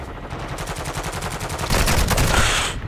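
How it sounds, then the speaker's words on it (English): Rapid automatic turret fire in a Call of Duty match, a dense stream of loud close gunshots that grows heavier and more intense toward the end. "Oh, that's a turret."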